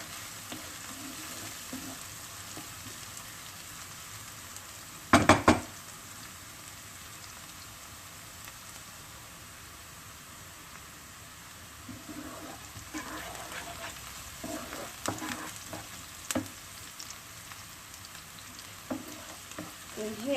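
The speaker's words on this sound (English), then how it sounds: "So make sure you don't burn your onions and your garlic. So stir it all the time." Onions and garlic fry quietly in a pan for stuffed vine leaves, a soft continuous sizzle punctuated by scattered scraping stirs and a sharp clatter early on.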